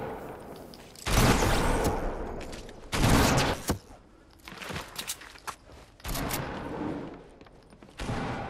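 Bursts of light machine gun fire in Fortnite, loud and sustained, in several rapid volleys of about a second each, broken by quieter gaps with footsteps and scattered shots.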